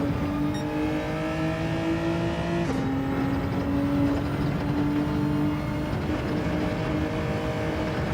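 Gr.4 race car engines in a racing video game hold a steady high whine that drops sharply in pitch partway through, then climbs again, loud and continuous with no speech.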